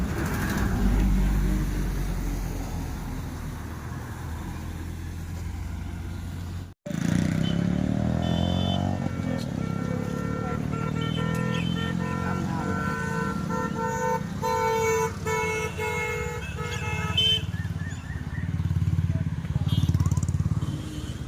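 Cars and motorcycles flow along a rural road after a traffic jam clears, passing with engine rumble, tire noise and repeated horn toots, with a brief gap and voices partly heard over the traffic.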